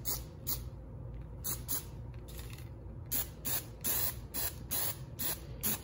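An aerosol can of spray glue applies coats over a car's radiator air-ducting panel in repeated short hisses, some alone and some in quick bursts, close and loud, with no talking.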